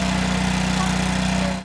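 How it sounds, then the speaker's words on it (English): A giant soil-sampling drill rig bores through concrete into the ground in a high school parking lot, its engine producing a loud, steady, close drone that holds level and cuts off at the end. "Workers bring in a giant drill to get soil samples"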